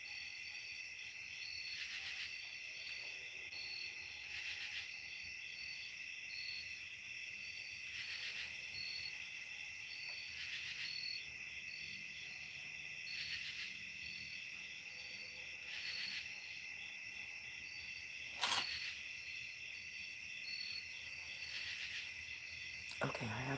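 Crickets chirp steadily at night on a farm, a dense continuous high trill with regular pulsing and one brief sharper click near the end, and no voices.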